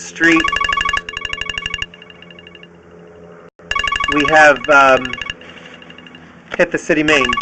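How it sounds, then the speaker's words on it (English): A mobile phone rings in repeated bursts of bright electronic tones during a sewer line camera inspection, cutting in and out around a man's speech. "my phone ringing while I'm doing this."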